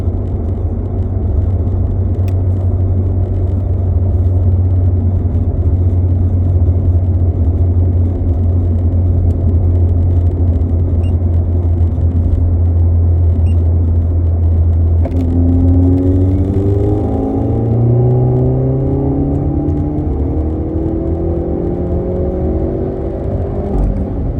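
A Hyundai Elantra N on a race-gas tune pulling hard in fourth gear toward about 6,500 RPM: a loud, continuous engine drone that climbs steadily in pitch in the second half, heard from inside the car.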